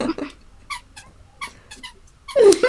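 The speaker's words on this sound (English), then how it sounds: "So, Lion, stop squeaking." A dog lets out several short, high squeaky whines in bursts, ending in a louder, sharper yelp-like squeal up close.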